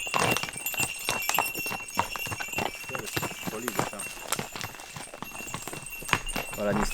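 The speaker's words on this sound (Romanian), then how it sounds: "Ne-am întâlnit și cu doi cai chiar frumoși" Two horses clip-clop on a forest trail in the Ponor area of Romania, hoofbeats close and irregular, with people talking over them.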